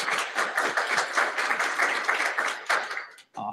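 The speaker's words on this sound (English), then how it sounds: "A round of applause for our panelists real quick to welcome them." An audience claps steadily to welcome panelists at a federal meeting, a dense, moderately loud round of applause that fades out near the end, followed by a brief voice.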